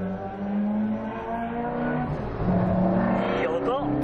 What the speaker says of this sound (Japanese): すごいエンジン。